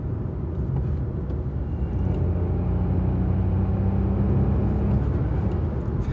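A 2025 Suzuki Swift drives along with an even low rumble of engine and road noise heard from the cabin, and a faint engine tone rises briefly midway.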